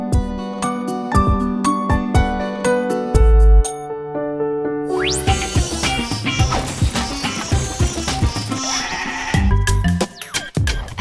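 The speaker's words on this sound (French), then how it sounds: "la brebis ensuite mange ces fourrages-là" Ewes bleat in repeated calls over a busy musical backdrop of bright chimes and tinkling tones, the loud cries rising and falling throughout.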